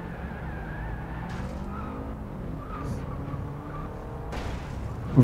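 Car skidding during reckless driving in the Forza Horizon video game, with a sustained engine drone and tire squeal rising and falling over several seconds, no talk.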